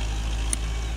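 A tractor levelling ground for a backyard pool, its engine a steady low rumble held at a constant level, with a faint high click partway through.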